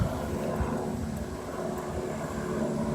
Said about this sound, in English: I hear a helicopter, but I don't see it.